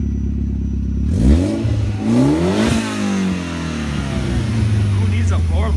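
A Mitsubishi Evo X fitted with a Borla exhaust revs hard from idle, its engine note climbing and falling in a single loud, close sweep before settling into a steady rumble.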